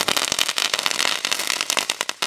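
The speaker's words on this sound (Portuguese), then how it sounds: "Se liga como é que é essa bombinha" A small firecracker goes off in a rapid, loud burst of crackling pops and sharp bangs, close by and continuous over a couple of seconds, with no speech.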